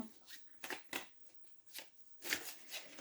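Cards shuffled by hand for a card reading, a few soft, close slides and flicks in irregular bursts, faint and unaccompanied by talk.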